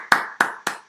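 Three sharp hand claps ring out close and loud in a quick, slightly slowing rhythm, each one a crisp smack with a short tail.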